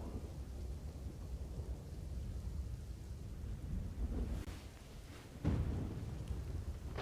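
Heavy monsoon rain pours steadily in Ahmedabad, Gujarat, a dense continuous wash with low rumbling thunder swelling near the middle and a sharper crack toward the end.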